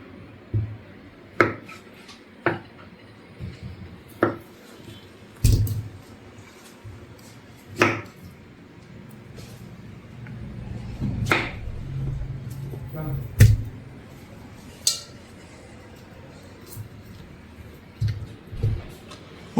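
A knife chops boiled potatoes into pieces on a board for a Sri Lankan potato milk curry, giving crisp, irregular taps spaced about a second apart, close and clear, with a voice talking quietly in between.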